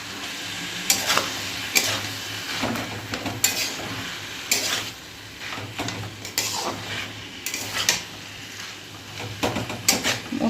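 Boiled banana flower is stirred into spice paste frying in a pan for mochar ghonto, with a steady sizzle under repeated close scraping strokes of a spoon every second or so.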